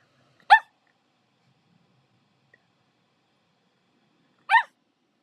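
A dog in the background of a phone call gives two short, separate barks about four seconds apart, each brief and sharp against near silence.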